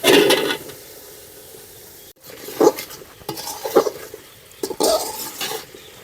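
Vegetables are tipped into fried spices in a pot on a clay stove. Sizzling frying comes in bursts between scraping stirs, with a short quiet gap partway through.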